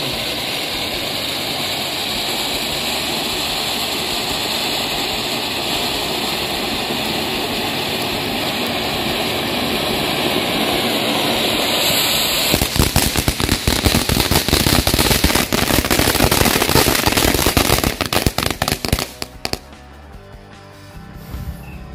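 A jumbo fountain firework roars with a steady hiss for several seconds, then breaks into dense crackling bursts before dying away, loud and close at a night-time celebration.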